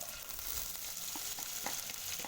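Onions dropped into oil in a very hot pan for skuma kale, a quiet, steady sizzle with scattered small pops and crackles, near and continuous, no speech.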